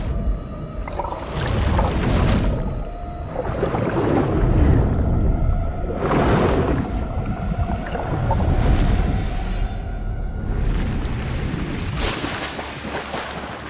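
Muffled underwater ambience from Fortnite, with swelling waves of low rumbling water and bubbling surges rising and falling several times, steady and close with no speech.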